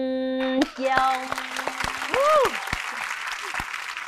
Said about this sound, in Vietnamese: Tiếp tục, vỗ tay thôi.